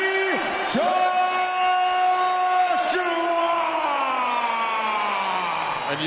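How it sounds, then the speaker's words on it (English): A large boxing crowd in a Liverpool arena roars for heavyweight Anthony Joshua, a dense, sustained wall of cheering with whoops and yells rising and falling throughout, loud and close. "And you can hear exactly how this crowd in Liverpool feel about that"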